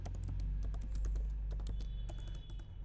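Quick, irregular keystrokes as HTML code for a dropdown form is typed on a computer keyboard, close and clear against a low steady hum, with no voices.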